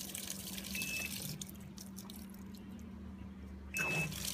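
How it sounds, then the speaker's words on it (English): A Haier HLP21N portable washer fills with water in a steady, faint rushing hiss with a low hum underneath. A couple of short electronic beeps sound near the end. "So the washer has filled up and it's telling us to close the lid now"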